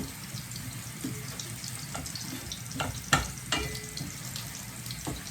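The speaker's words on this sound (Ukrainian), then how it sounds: "підсмажую разом з борошном" Chopped onion and garlic fry with a spoonful of flour in a pan, a continuous soft sizzle broken by scraping stir strokes and a few sharp clinks of the spoon against the pan.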